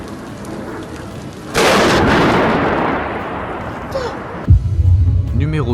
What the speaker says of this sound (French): est arrivée à capter l'impact d'un éclair à quelques mètres d'elle